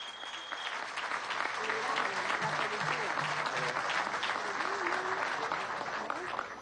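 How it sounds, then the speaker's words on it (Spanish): An audience applauds artists from a cultural centre at an economic council event in Lara, Venezuela, with sustained, dense clapping and a voice speaking over it throughout. "pido un aplauso para estos artistas"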